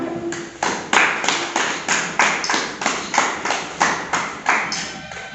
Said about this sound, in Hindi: हम उनका जोरदार तालियों से स्वागत करें